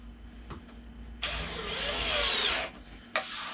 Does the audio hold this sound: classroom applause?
no